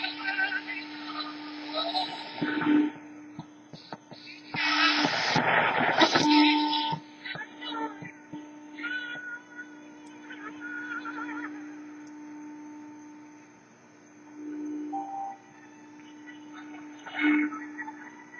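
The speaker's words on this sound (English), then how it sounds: "But that does sound like Radio Cairo. Boy, it's got a jamming signal that sounds like right on top of it." Radio Cairo shortwave broadcast on a Grundig Satellit 750, a steady jamming tone sitting on top of the signal through noisy, fading reception with bursts of louder program audio and static.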